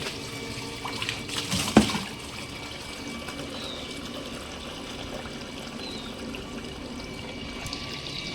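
Water pours steadily into buckets, a continuous trickling and filling sound from start to finish, with a brief louder clatter near the beginning.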